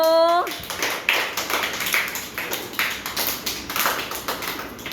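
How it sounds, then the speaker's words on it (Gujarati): Young children at an anganwadi clap their hands together in a quick, rhythmic series of light, close taps that follow a brief adult voice at the start. "તાળી પાડો"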